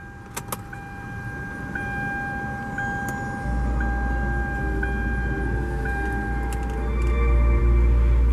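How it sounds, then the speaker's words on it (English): A 2013 Hyundai Veloster with a 6-speed manual sounds its welcome chime as the key goes in, a clear electronic tone repeating about once a second. Partway through, a low steady hum starts up and continues to the end. "You can hear the car actually does have its own welcome chime"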